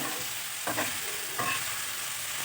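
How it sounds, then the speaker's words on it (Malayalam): Quiet sizzling of mustard seeds in hot oil with a couple of brief crackling pops, close by and without any speech. "കടുക് പൊട്ടി വരട്ടെ"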